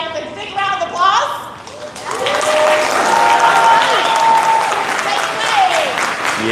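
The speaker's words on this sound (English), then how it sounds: "Shall we welcome our beautiful dragonfly with a big round of applause?" Audience applause and cheering greet a dragonfly performer at a Cirque du Soleil show, a loud sustained wash of clapping that swells after a short opening voice and holds steady, with a brief tonal whistle-like sweep over it.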